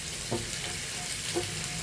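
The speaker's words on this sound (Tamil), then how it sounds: "நல்லா ஒரு வதக்கிடுவோம்." Chopped tomato with green and red capsicum sauté in a pan, giving a steady, even sizzle broken by two soft stirring scrapes.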